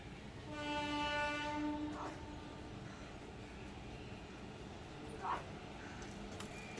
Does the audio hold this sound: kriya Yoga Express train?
yes